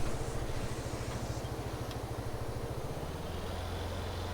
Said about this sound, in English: Switch the engine off.